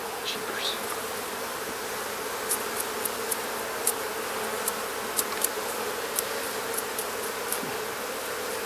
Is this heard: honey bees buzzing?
yes